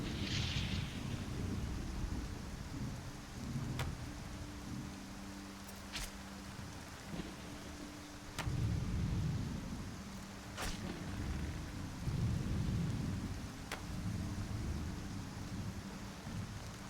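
Rain falls steadily during a storm in the video game Skyrim, a constant hiss with several sharp thunder cracks and low rolling rumbles spread across the stretch.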